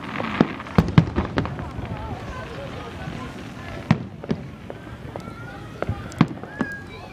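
Fireworks go off at a distance in a steady series of sharp pops and crackles scattered over a low, rumbling background. Someone talks quietly through most of it.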